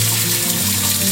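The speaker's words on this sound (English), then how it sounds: "I'm just going to wash out" Running water washes tomato pulp through a sieve to separate the seeds, a brief, loud, steady rushing spray heard close up and alone.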